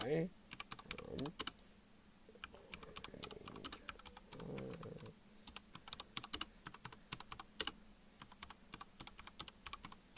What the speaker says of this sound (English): I'm typing so my microphone's kind of over it, and I suck at typing